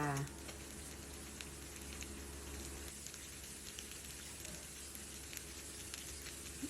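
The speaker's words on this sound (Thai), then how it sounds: "นำพริกกระเทียมที่โขลกเสร็จแล้วลงไปผัดกับน้ำมันให้ร้อน" Pounded chili and garlic fry in hot oil for a Thai holy-basil stir-fry, a soft, steady, crackling sizzle heard close but quiet throughout.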